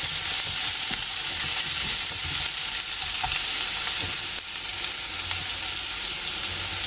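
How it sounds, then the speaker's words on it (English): Finely chopped onion sizzles steadily in a hot pan while being stirred for Rajasthani daal baati, a close, continuous frying hiss with faint scraping strokes. "We'll cook the onions until they are soft."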